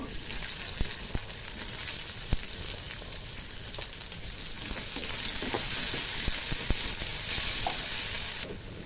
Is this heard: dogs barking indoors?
no